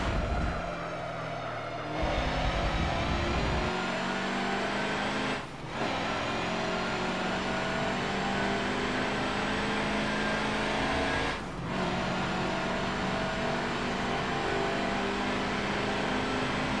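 Race car engines in the video game Forza Motorsport 7, played with a steering wheel on an Xbox One S, drone steadily and loudly for the whole stretch, with two brief dips in the roar.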